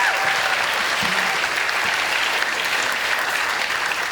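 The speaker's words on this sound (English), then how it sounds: "Let's give them a round of applause." An audience at an awards-style celebration bursts into dense, steady applause, loud and even from start to finish with no talk over it.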